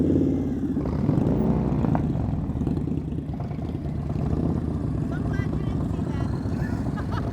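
Motorcycle engine at low speed during slow-speed riding practice, a steady low rumble running throughout with a voice talking over it.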